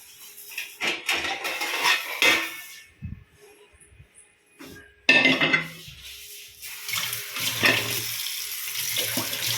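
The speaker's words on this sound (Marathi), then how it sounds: "स्वयंपाकाची भांडी इथे आहे." Tea and cooking pots and pans are handled in a home kitchen: metal clanks and clatters come in uneven bursts, with running water and quieter gaps between them.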